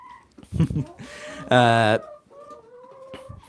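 Chickens from a well-socialized, live-streamed backyard flock give a few clucks and a loud drawn-out squawk near the middle, with a person talking softly around them.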